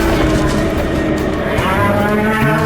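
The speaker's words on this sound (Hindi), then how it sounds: "जैसे ही उसने वीर की तरफ देखा तो चिंघाड़ते हुए वीर पर अटैक कर दिया।" A bull-headed, horse-bodied alien creature gives a loud, sustained bellowing roar as it attacks in an audio drama, dense and continuous with no talk.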